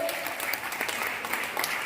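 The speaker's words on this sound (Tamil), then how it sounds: "மீண்டும் ஒரு கைத்தட்டலை கொடுத்து" Audience applause at a Tamil debate forum, a steady wash of many hands clapping at moderate level, continuous and dense with a faint murmur of voices underneath.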